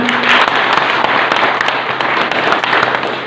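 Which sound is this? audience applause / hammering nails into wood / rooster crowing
audience applause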